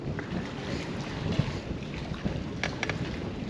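Wind blowing across a lake beneath a bridge during a fishing outing, a steady low rumbling buffet on the microphone with faint water lapping and a few brief higher rattles, continuous and close.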